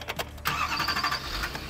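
A Chevy engine is started with its original key: a short crank catches after about half a second into a steady running roar, close and moderately loud, with no speech.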